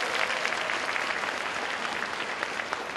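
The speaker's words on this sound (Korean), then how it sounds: "박수 한번 쳐주세요" Steady, dense applause from an audience at a Korean business meeting, many hands clapping together close by, evenly sustained without a break and with no voices over it.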